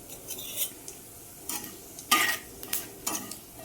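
Mustard and cumin seeds spluttering in hot oil, heard as scattered sharp crackles and pops in irregular bursts, with some metallic clinks of a utensil against the pan.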